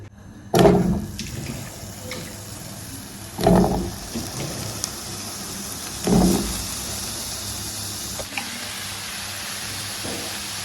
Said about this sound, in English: Guys, we go in with our water.